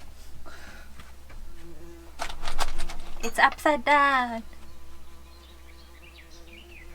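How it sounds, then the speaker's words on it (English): A bee or wasp near a nest hole by a truck camper buzzes in short bursts, growing loud and close in the middle before fading, with a person speaking briefly nearby. "There's a bee that tries to make a nest."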